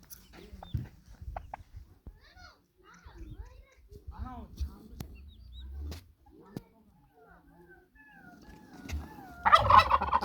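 Hens and a rooster in a farmyard chicken coop give scattered clucks and short calls, rising to a louder flurry of squawking near the end, while people talk nearby.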